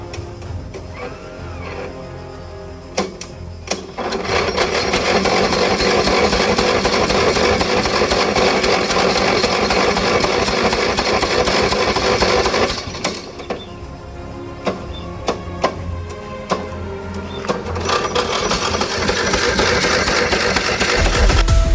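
An old ride-on lawn tractor mower engine labouring as it climbs an obstacle on a steep slope, with a loud, steady, strained mechanical drone, a brief dip, and then a return to full effort.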